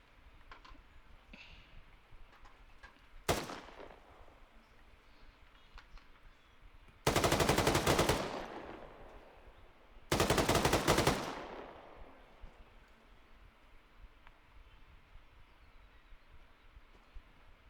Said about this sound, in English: Which target are you shooting at